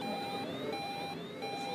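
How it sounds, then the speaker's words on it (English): A TriGas gas detector sounds an SOS alarm at an industrial safety expo, a continuous shrill electronic tone with steady pitched beeping over a busy hall background. "If I were to pull an SOS alarm"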